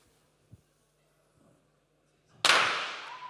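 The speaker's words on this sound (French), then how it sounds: "J'ai choisi le pétard pour deux raisons." A firecracker goes off with a sudden sharp bang followed by a crackling, fizzing decay, after a few faint taps in a quiet room.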